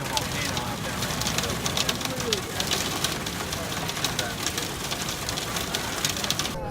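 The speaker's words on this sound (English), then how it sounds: "It's crazy how hard it's raining" Heavy rain pouring during a thunderstorm, a dense, steady hiss with constant patter that stays loud throughout.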